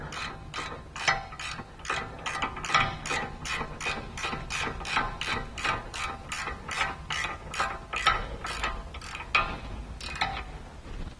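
Hand ratchet tightening a control arm stud on a 2005 BMW E46 3-Series, a long run of rapid, evenly spaced clicks close up that slow slightly near the end, with no talk.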